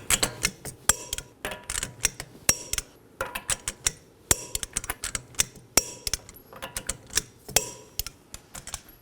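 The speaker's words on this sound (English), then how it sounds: "Now let's go ahead and torque these to 100 foot-pounds in a crisscross pattern." A torque wrench tightens the rear lower forward control arm bolts of a 2018-2024 Chevrolet Equinox to 100 foot-pounds in a crisscross pattern, giving sharp close clicking and ratcheting bursts at an irregular rhythm.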